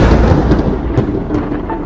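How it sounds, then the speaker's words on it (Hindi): Loud thunder crashes and rolls in a long, dense rumble that fills the whole moment, close and heavy, with no voices over it. "तभी जोरदार बिजली कड़कती है और सारा माहौल एकदम से बदल जाती है।"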